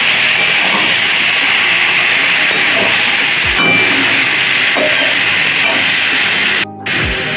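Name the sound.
bottle gourd added to hot spices, sizzling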